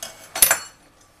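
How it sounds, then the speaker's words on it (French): A knife scrapes and clinks against the rim of a pie dish while trimming excess pastry dough for an Alsatian pie, one brief close scrape with a metallic tick, then quiet. "Je coupe ce qui dépasse du plat."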